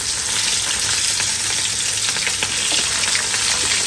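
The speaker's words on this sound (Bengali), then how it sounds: "ইলিশ মাছ ভাজতেছি" Hilsa fish frying in hot oil in a home kitchen, giving a loud, dense, unbroken sizzle with faint crackles throughout.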